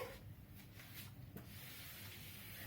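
A duster rubbing writing off a classroom board, a faint steady scrubbing with a few soft strokes, alone with no voices.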